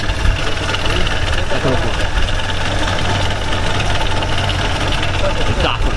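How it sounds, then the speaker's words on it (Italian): A vintage Alfa Romeo A12 van idles at a classic car fair in Padova, a steady, loud mechanical rumble running throughout while someone speaks over it. "hanno acceso, messo in moto un Alfa Romeo A12"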